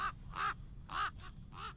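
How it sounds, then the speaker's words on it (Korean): Crow caws from the horror game Shame Legacy, set in a nineteenth-century pagan village: five harsh calls in two pairs and a single, clear and fairly close over a low, steady ambient rumble. "까마귀네요."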